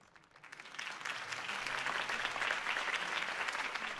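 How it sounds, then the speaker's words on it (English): Crowd applause following a campaign speech in Batman: The Telltale Series, a swelling wash of many hands clapping that builds quickly and holds steady, heard at a moderate distance. "If only Mr. Wayne, my campaign's largest backer, could have heard that applause"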